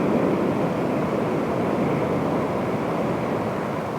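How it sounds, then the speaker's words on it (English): Ocean waves wash steadily in the background as a broad, continuous surf roar, with some wind noise at the microphone, during an outdoor restorative yoga practice. "Listen to the waves in the background."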